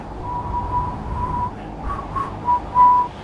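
Thin, wavering attempts at whistling, a steady faint tone breaking into short uneven toots toward the end, heard close over a low background hum.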